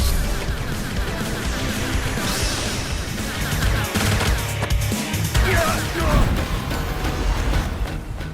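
Rapid gunfire and bursting explosions from a retro 90s-arcade-style metroidvania shooter video game, a loud, dense, continuous barrage of shots and crashes as large bosses break apart, with no voices.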